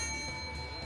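A bell sound effect rings out clearly, a sustained metallic tone with steady overtones lasting the whole moment, fairly loud and alone with no voices.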